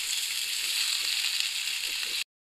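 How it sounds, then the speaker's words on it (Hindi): Chopped medium onion lightly frying in a pan, a steady, close hiss of sizzling oil with faint crackles, continuing evenly for about two seconds before stopping abruptly. "हल्का सा इसको फ्राई करेंगे"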